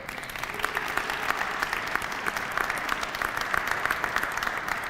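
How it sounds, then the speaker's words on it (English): A room of attendees at a city memorandum of understanding signing on a community benefits agreement breaks into sustained applause, an even, moderately distant patter of many hands with no speech over it. "You all deserve to give yourself a round of applause if you could."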